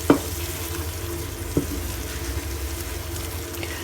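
Shrimp and seasoning frying in a hot pan for spicy shrimp pasta, a steady close sizzle and crackle with two brief clinks of a utensil against the pan.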